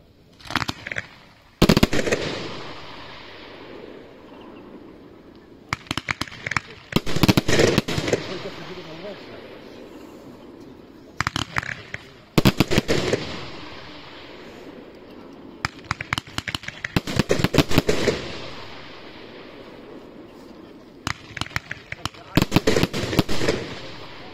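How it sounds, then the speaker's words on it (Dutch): Profi Candle fireworks cake with 15 large crown effects from 30 mm tubes, firing in loud repeated bursts of rapid crackling shots separated by short gaps, with faint talk in between. "Met 15 mega grote kraaneffecten is hier de Profi Candle."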